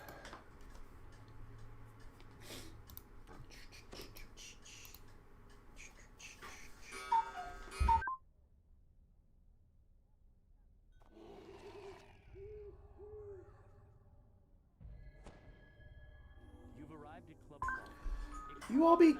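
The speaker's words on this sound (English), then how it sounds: "You all be cuckoo if you don't love that clock." A loud cuckoo-style clock ticks and sounds hooting chime notes in short bursts, separated by a near-silent gap, with a voice speaking over parts of it.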